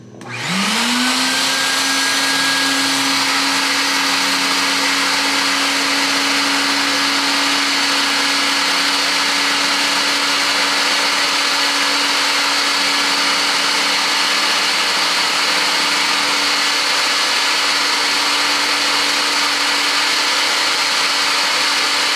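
A wet-dry extraction machine runs steadily and loud on a wool rug to pull up a pet stain, its motor whine spinning up at the start and then holding an even, continuous roar with no talk.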